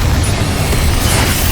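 Confringo blasting spell explosions in Hogwarts Legacy, a dense, sustained rumbling roar of booming blasts with heavy low end, loud and continuous throughout.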